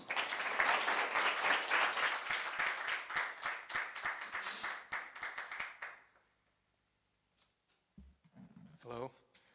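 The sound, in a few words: audience round of applause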